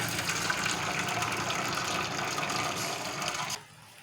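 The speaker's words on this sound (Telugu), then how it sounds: "సో ఇప్పుడు రైస్లో ఉన్న వాటర్ మొత్తం ఉంపేసుకోవాలి" Water pours and gushes steadily from close by for a few seconds as it is drained from half-cooked rice, then the stream stops abruptly, leaving quiet.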